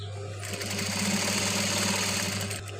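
A sewing machine stitches the side cuts of a dress, running in one continuous steady whir with a low hum underneath, close and fairly loud for nearly the whole stretch.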